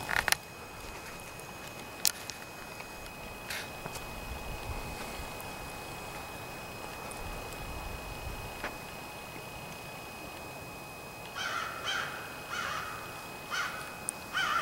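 A bird calls at a lakeside campsite along Lake Superior, giving a few sharp, moderately distant calls over quiet outdoor ambience, with a cluster of repeated calls near the end.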